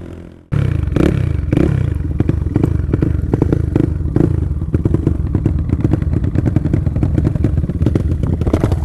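A Honda Twister motorcycle at a street race accelerates hard with a loud, close engine roar that starts abruptly and keeps climbing, with gear shifts as the bike floats between fifth and sixth, plus rattling clatter.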